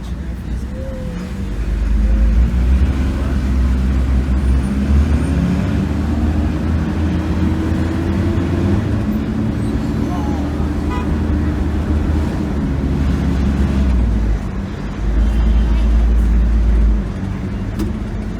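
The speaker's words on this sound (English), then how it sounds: "Heavy traffic along Mountain View Avenue." Heavy road traffic streams along Mountain View Avenue in Jamaica, a steady loud rumble of passing cars and engines with a horn toot now and then, swelling as vehicles pass close and continuing without a break.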